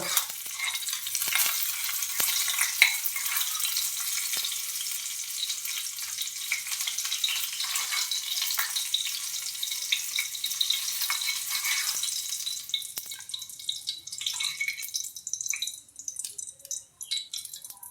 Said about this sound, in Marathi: वरून हा तडका छान मस्त